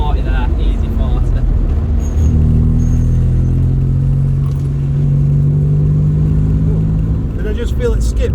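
A modified Citroën C1 accelerates on the road, its small engine droning and rising in pitch inside the cabin with road rumble and some rattling.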